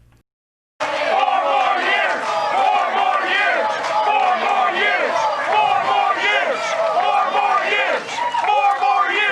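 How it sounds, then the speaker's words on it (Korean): Delegates at a political party convention cheering and chanting loudly in unison, a dense, rhythmic crowd roar that starts abruptly and keeps going with repeated chant pulses. "4년 더를 외치며 환호했습니다."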